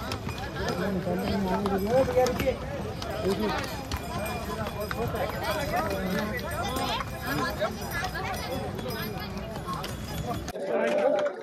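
Horses' hooves clip-clop steadily along a muddy, slippery mountain path on the Amarnath Yatra with people chattering nearby, the footfalls continuing for several seconds before briefly dropping off.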